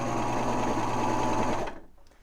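A serger stitches a knit band onto a t-shirt armhole, running in a fast, steady whir for under two seconds before stopping abruptly.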